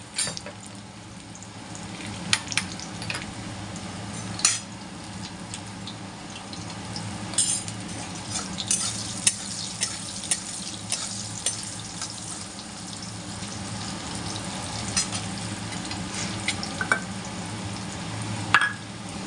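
Potatoes fry in a pan for a prawn and okra dish, a steady, moderately quiet sizzle with occasional clicks and stirring scrapes, continuing throughout with no talk.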